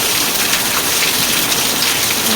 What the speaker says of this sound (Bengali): ঝমঝম করে বৃষ্টি পড়ছে